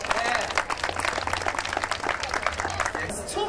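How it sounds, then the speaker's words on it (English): An audience gives a round of applause at a 90th birthday tribute, dense continuous clapping close and loud throughout, with crowd noise mixed in. "Let's give CHA a round of applause."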